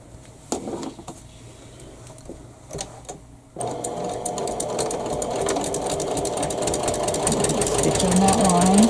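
A sewing machine stitches a Cathedral Window quilt block, starting with a few short bursts, then running continuously and growing louder toward the end, with a voice talking over the start.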